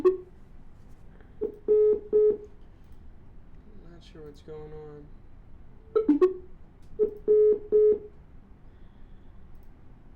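Telephone keypad tones sound in short clusters of beeps while a call to a number in San Antonio, Texas fails; someone speaks briefly between the bursts in a quiet room.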